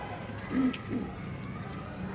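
A domestic pigeon coos twice in low, soft, rounded calls, close by over a quiet room background, with no voices.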